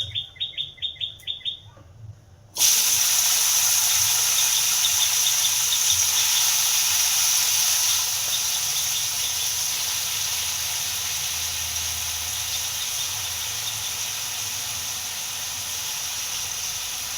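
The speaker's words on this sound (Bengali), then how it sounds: "এখন আমি বসিয়ে দিচ্ছি এই যে আলু ভাজা।" Sliced potatoes frying in hot oil in a home kitchen pan, a loud, steady sizzle and hiss that bursts in as they go in and carries on unbroken, preceded by a few brief squeaky clinks.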